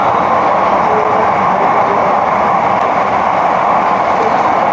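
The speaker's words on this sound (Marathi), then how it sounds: "ते बघ ट्रेन" An underground metro train runs through a tunnel with a loud, continuous rumbling roar that stays steady and close throughout, with no voices.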